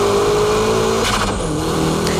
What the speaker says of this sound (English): And from here, it's power drifting.